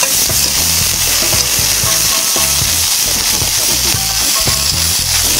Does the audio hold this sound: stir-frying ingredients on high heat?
yes